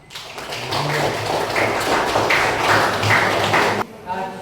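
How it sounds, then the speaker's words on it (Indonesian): Applause for a student discussion group in a classroom, a dense run of clapping from several people lasting a few seconds before stopping abruptly. "berikan aplaus untuk kelompok 4"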